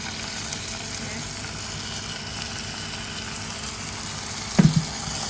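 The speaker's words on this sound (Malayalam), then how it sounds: "നമുക്കിത് നമ്മുടെ കറിയിലേക്ക് നമുക്ക് ഇതൊന്ന് താളിച്ച് കൊടുക്കാം." Hot tempering poured into a Kerala-style Angamali mango curry, a steady low sizzle and hiss with a brief sharp burst of crackling near the end, close and moderately loud, no talk.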